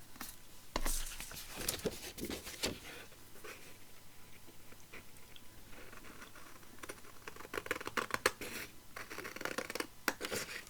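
Scissors cutting out a decorative card piece for a journal make faint, scattered snips and crisp paper clicks in a quiet room, irregular and close by.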